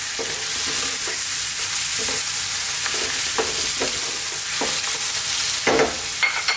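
Mexican chicken stew sizzling hard in a pan over lively heat, a steady loud hiss with scraping stirring strokes now and then, close up and without talk.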